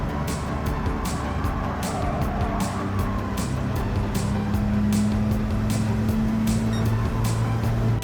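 A 1952 Mercedes-Benz 300 SL engine at full throttle on the Big Willow track in Gran Turismo 7, a loud sustained roar whose pitch climbs steadily, with rapid periodic ticks over the engine drone.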